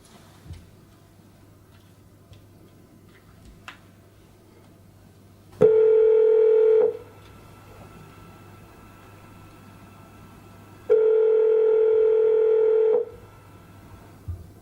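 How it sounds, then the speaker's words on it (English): A telephone tone in a phone box in Edinburgh: two steady, loud tones of about one and two seconds, separated by a pause, over a low background hum with a few faint clicks. "We take you now, for the first one, to a phone box, somewhere in Edinburgh."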